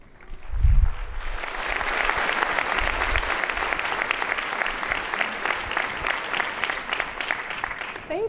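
Audience applause welcoming speaker Esther Derby at a conference talk, rising quickly after a brief low thump into loud, steady, dense clapping from a large crowd that holds for several seconds, with no talk.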